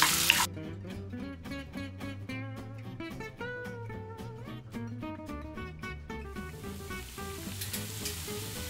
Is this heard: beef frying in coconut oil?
yes